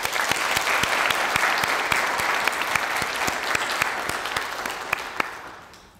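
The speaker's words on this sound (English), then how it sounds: "So please join me in giving her another round of applause." Audience at a Western Sydney University journalism event applauding a speaker: a dense, steady round of clapping from a sizeable crowd, close and loud throughout, tapering off at the end with no talk over it.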